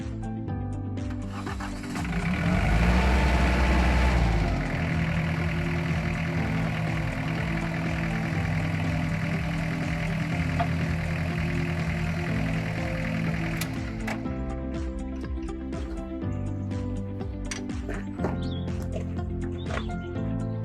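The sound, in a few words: tractor engine running to operate Vredo over seeder hydraulics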